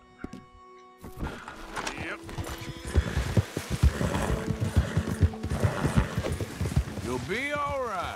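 Horse hooves clip-clopping in the Red Dead Redemption 2 video game, a steady run of soft hoof beats from a chestnut horse, mixed with game ambience and someone talking over it.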